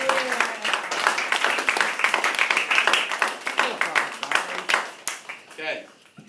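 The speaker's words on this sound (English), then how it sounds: "Big round of applause!" A school audience of social studies students claps and applauds for several seconds, a dense, steady patter of many hands with some voices mixed in, fading out near the end.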